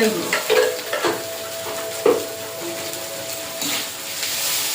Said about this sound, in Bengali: দিয়ে একটু নেড়ে চেড়ে মশলাটা ভালো করে কষিয়ে নেব